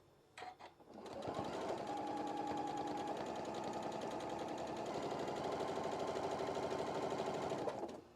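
Sewing machine stitching along the folded edge of a one-yard apron, a fast steady mechanical whirr that starts after a few faint clicks and runs evenly for several seconds before stopping.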